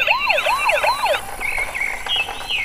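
A toy police car siren wails in a rapid rising-and-falling pattern, then switches to a steadier high electronic tone, played close and moderately loud with no talking.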